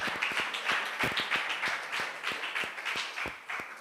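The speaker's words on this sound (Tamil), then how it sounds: "நல்லா கைத்தட்டி ஆண்டவரை மகிமைப்படுத்துங்க." A church congregation clapping together in a steady, fairly even rhythm, many hands striking at once in repeated sharp claps, moderately loud and close with no talk over it.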